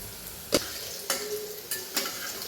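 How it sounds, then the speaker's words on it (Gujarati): Onions frying in a pan with salt and curry leaves for khichadi, a soft steady sizzle broken by four sharp scrapes of a spoon stirring against the pan, close and alone. "તો મિત્રો આપણી ડુંગળી મસ્ત ફ્રાય થઈ ગઈ છે."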